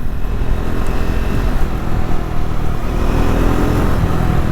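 A Triumph Scrambler 400 motorcycle accelerating on the road, its engine note loud and steady with wind rush, rising through the revs without a break.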